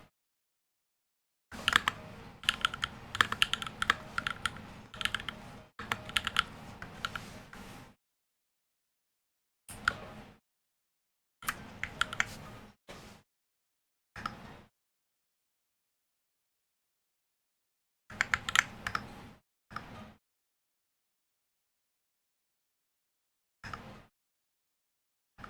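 Bursts of rapid typing on a mechanical keyboard fitted with 78g Zealios V2 switches, close and crisp, separated by stretches of silence; several short flurries of keystrokes, some only a second or two long.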